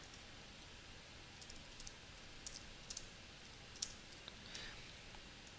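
Fingers type on a computer keyboard, entering poker hands into an odds calculator: scattered soft clicks and taps, quiet and close, with no talking.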